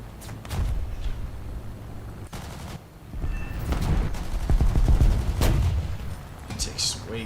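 Aircraft machine gun fire in War Thunder, sustained rattling bursts that swell and fade over engine drone, fairly close and loud.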